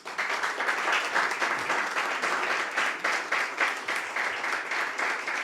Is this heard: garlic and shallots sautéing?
no